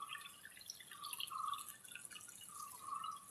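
Water pours from a hose into a small backyard fish pond as a steady hissing trickle with light dripping, continuous and close, with no voices.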